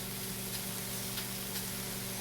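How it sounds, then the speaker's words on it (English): A steady, soft sizzle and crackle of mushrooms frying in a pan, continuous and fairly quiet, with no voices. "Hear them beginning to sizzle a little more."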